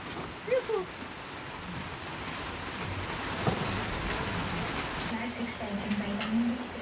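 Steady rain hisses over a beach house construction site in the Philippines, with a few faint voices and brief knocks mixed underneath.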